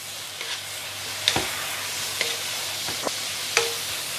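French beans with egg being stir-fried in a pan, a steady soft sizzle carrying a few sharp scrapes and clicks of the spatula spaced across the stretch, moderately close.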